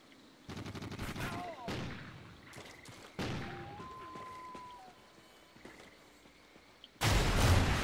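Gunfire in the video game Call of Duty Ghosts during a Gun Game match, with bursts of rapid shots and short volleys, some sharp and close, others more distant, under occasional game effects.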